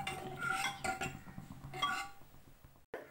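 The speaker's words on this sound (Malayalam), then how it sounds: "അടപ്പടച്ച് ഇനി വേവിക്കാൻ പോവുകയാണ്." A pressure cooker lid is set and locked onto a pot of dhal fry in a home kitchen, giving a few close metallic clanks and clinks in short bursts, then a brief silence and a final knock.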